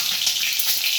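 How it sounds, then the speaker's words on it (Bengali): Boiled duck eggs sizzle in hot oil in a pan, a steady, close crackling hiss with no talk. "তো ডিমটাকে হচ্ছে একটু ভাজা করে নেবো।"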